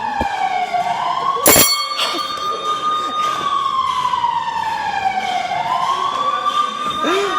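A school fire alarm siren sounds during a drill, wailing loudly and continuously as its pitch rises and falls, over steady background noise with a sharp knock near the start.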